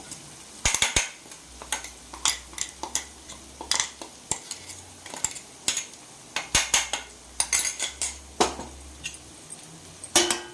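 Carrot and freshly grated coconut are stirred in a pan over a low flame: irregular metallic scrapes and clinks of a spatula against the pan, close and sharp, over a faint low hum and no talking.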